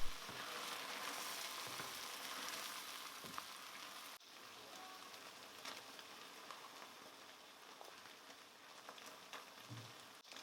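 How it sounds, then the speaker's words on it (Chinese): Tofu simmers under a lid in a covered pan, giving a faint, continuous crackling bubble with occasional small pops, steady and distant-sounding throughout. "盖上盖子，让豆腐焖煮几分钟。"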